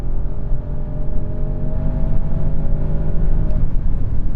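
An Audi S8 accelerates hard on the Autobahn, its engine a steady, loud, rising drone heard close up from inside the cabin with no talking.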